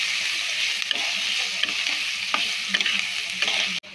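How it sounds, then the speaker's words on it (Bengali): Chopped green chilli and pre-fried nuts being stirred in a hot pan for semolina halwa, a continuous close sizzle broken by repeated scraping strokes of the spatula at an even rhythm. "এইবার এটাকে আমরা ভালো করে নাড়িয়ে চাড়িয়ে নেব।"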